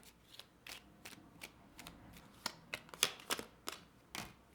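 Tarot cards shuffled and drawn, a series of crisp, quick riffling snaps and soft card slaps at uneven intervals, close and fairly quiet, with no voices.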